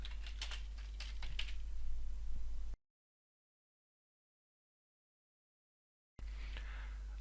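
Bursts of close, crisp keystrokes on a computer keyboard, then a stretch of dead silence before a short final run of typing.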